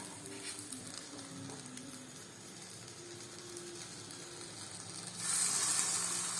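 Flattened naan dough, its underside dampened with water, laid into a hot kadai at home, giving a steady soft sizzle with light crackle that swells brighter and louder near the end as water is splashed around.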